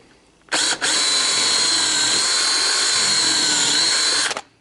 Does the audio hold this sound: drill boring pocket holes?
yes